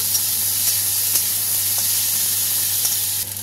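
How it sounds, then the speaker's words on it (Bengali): Hog plum and amra pieces with pineapple frying in hot oil for a chutney, giving a steady, loud, close sizzle that holds evenly throughout with a few faint stirring clicks and no talking. "আমি কিন্তু আমড়া আর আনারস একসাথে দিয়ে দিয়েছি এবার এটাকে একটু ভাজা করে নেব"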